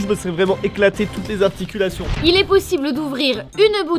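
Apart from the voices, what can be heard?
No everyday noise stands out behind the speech.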